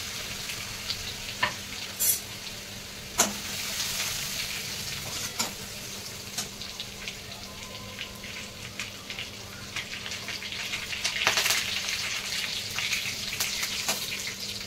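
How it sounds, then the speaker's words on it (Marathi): Crushed garlic sizzles steadily in hot oil for a cabbage sabji, with scattered sharp spatula clinks and scrapes against the pan, close and continuous, no talking. "इथे आपण लसूण घालणार आहोत ठेचलेला"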